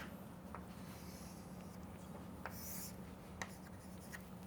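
Drawing a microstructure diagram on a board during a welding lecture, faint scratchy marker or chalk strokes with a few sharp taps over quiet room noise.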